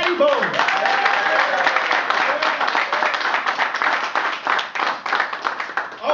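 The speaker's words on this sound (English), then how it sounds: "please, a big round of applause for the former two-time heavyweight champion of the world, Mr. Riddick, Big Daddy Bowe." Steady applause and clapping from an audience at a Muay Thai press conference, loud and continuous throughout, with a voice briefly audible at the start.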